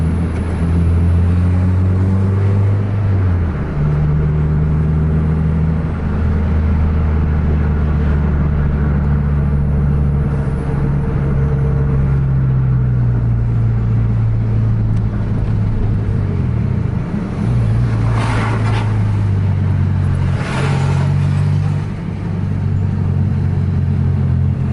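Scania trucks race and overtake each other on a road, giving a loud continuous rumbling drone. Engine pitch shifts slowly as they accelerate, and whooshes pass by near the end.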